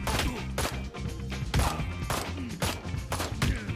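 Bursts of gunfire in the video game Ride to Hell: Retribution, repeated dense shots in rapid clusters, loud and close, with game sounds layered underneath.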